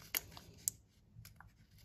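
A Kinder Joy wrapper is torn open in a quiet room, with two sharp crinkly rips close up followed by a few faint rustles of plastic.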